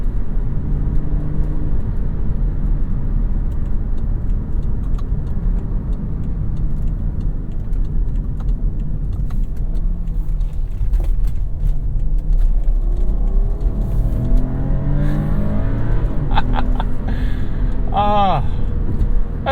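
A 2015 BMW X3 xDrive35i with about 100,000 miles pulling under steady acceleration, its engine a continuous low rumble inside the cabin with a rising whine toward the end.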